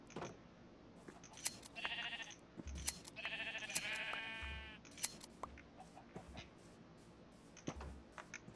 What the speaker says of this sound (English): Let's go shear my sheep so I can get some string.